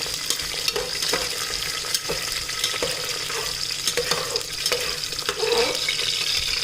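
Cashews fry in hot oil for a mutton fry garnish, a loud continuous sizzle and bubbling with stirring clicks throughout, no talk.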